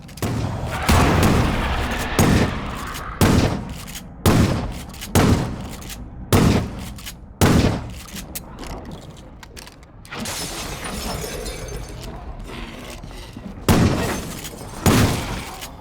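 Blasts go off in a zombie survival video game, a grenade among them: about a dozen sharp, loud bursts in an uneven rhythm, some in quick pairs, with short quiet gaps between.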